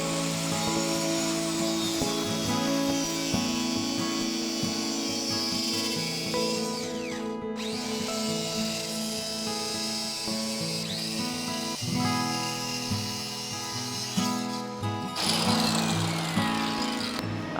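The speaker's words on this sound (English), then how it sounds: "now is a good opportunity to use a circular saw and this sheet" Circular saw ripping through an 18 mm sheet for a kitchen island, a loud, sustained whining drone that runs almost continuously, with brief dips in pitch as the blade loads and frees up during the cut.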